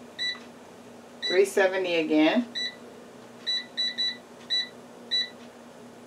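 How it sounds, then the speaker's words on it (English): An air fryer's timer gives a series of short, sharp electronic beeps as it is set, some single and some in quick runs, close by, with a person speaking briefly among them. "I'm going to set the timer,"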